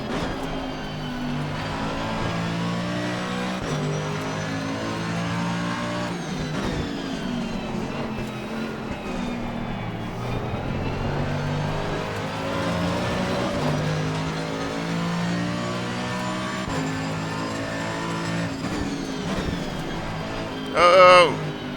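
Mercedes-AMG GT3 Evo race car engine at Paul Ricard in Assetto Corsa Competizione, a continuous loud drone rising and falling through gear changes, with a voice talking over it.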